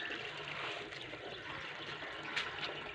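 Water runs steadily from a nearby public tap on a cold morning, a faint continuous hiss and trickle filling a container, with no speech heard.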